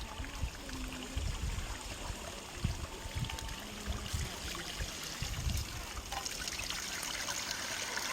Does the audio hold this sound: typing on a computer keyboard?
no